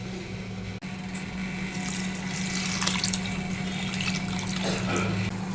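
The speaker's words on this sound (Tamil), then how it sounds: "இந்த புளி தண்ணியை நம்ம அந்த காராமணி கருணக்கிழங்கு குழம்புல ஊற்றணும்" Tamarind water is poured into a simmering karamani and elephant foot yam kuzhambu. It makes a soft, steady trickling and splashing that starts after a brief pause, with a low background hum and no talking.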